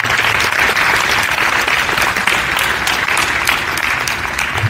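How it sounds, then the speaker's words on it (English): An audience at a school fall signing day celebration gives a steady, dense round of applause that holds at full volume throughout, with many hands clapping close together and no talking. "Please give them a round of applause."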